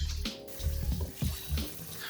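Rice being rinsed under a running tap in a sink, water splashing and sloshing in uneven bursts as grains are swirled by hand, close and moderately loud.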